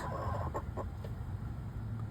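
Hens cluck softly in a few short, scattered notes, faint and close, over a low background hum.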